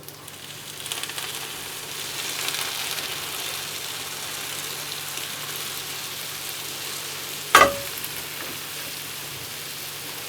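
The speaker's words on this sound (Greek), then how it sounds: "Όπως είναι τώρα καυτό θα το σιροπιάσουμε με το κρύο σιρόπι." Cold syrup poured onto a hot pie gives a faint, steady sizzling hiss throughout, with one brief sharp clink partway through; no voices.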